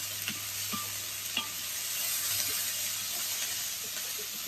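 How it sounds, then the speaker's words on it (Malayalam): Garlic and onion sizzle steadily in oil in a large kadai while a spoon stirs through them, with a few soft scrapes and taps against the pan over the continuous frying hiss. "വെള്ളുള്ളി ആഡ് ചെയ്ത് നന്നായിട്ട് മിക്സ് ചെയ്യുക"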